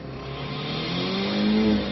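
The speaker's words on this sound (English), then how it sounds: "Listen to the rev of the engine and the smoke coming off of it." A manual stick-shift car's engine revs steadily, its pitch climbing and holding loud and close for about two seconds with no talking.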